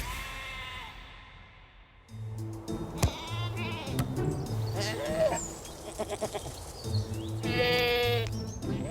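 A flock of Tibetan sheep grazes in a park in China, with repeated bleats from several animals at varying distances over a low, continuous background.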